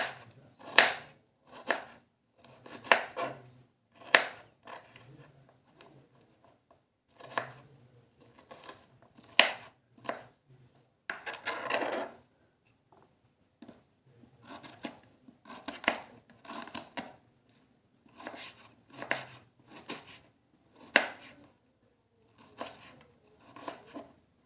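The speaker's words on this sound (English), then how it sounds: "I'm already done chopping up my onions," Steady rhythmic knife chops on a cutting board, crisp and close, repeating in quick bursts with brief pauses and one scraping sweep partway through.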